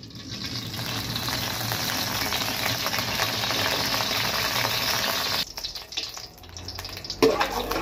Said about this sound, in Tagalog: Sa kawali, magpainit tayo ng mantika lang.